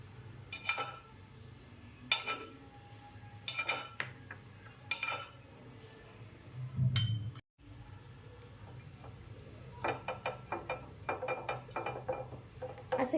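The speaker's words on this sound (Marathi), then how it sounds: "त्यामध्ये मी चमच्याने सगळ्या आप्पे पात्रामध्ये तेल टाकून घेते" A metal spoon clinks and taps against a metal appe pan in scattered bursts while oiling it, with quieter scraping between the louder clinks.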